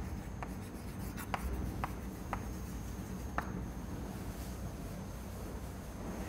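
A marker or chalk writes on a classroom board in several short, sharp strokes, spaced irregularly over a steady background hiss, with no talk.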